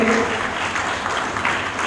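Applause from an audience at a community stage event in Bihar, a steady wash of clapping with a faint voice or tone at the very start.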